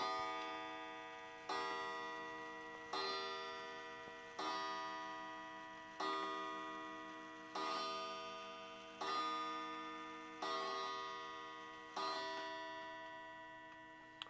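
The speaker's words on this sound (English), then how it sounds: "That's the pendulum wall clock." A pendulum wall clock ticks steadily and close by, with a bright metallic strike that repeats about every one and a half seconds and decays between beats. No other sound is present.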